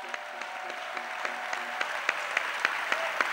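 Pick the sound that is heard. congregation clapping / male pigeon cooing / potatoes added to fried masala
congregation clapping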